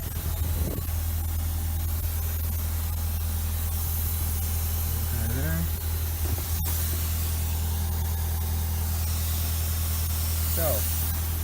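An air-arc gouger cuts into a weld on a loader quick attach with a loud, continuous hissing roar over a low steady hum, punctuated by brief crackles and tonal squeals.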